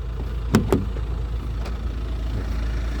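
Hyundai Staria Lounge 2.2 diesel engine idling as a steady low rumble, heard from nearby with a couple of brief clicks or thumps early on.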